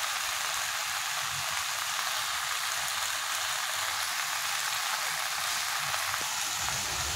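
Meat frying in hot oil with black pepper powder added, a steady dense sizzle and crackle that holds evenly throughout with no talk.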